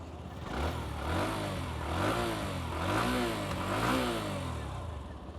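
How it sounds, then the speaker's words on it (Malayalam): Hero Glamour X125 motorcycle exhaust revving up and down in several smooth, rising and falling pulls, close and steady, with no talking over it. "കണ്ടോ, അതാണ് വണ്ടിയുടെ എക്സോസ്റ്റ് നോട്ട്"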